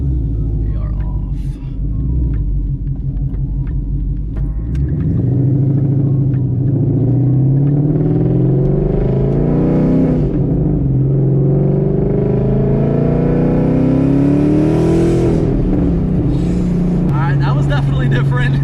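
A 722hp Ford Mustang GT engine roars loud and close while driving, its pitch sweeping up through the gears in long rising pulls with brief dips between shifts.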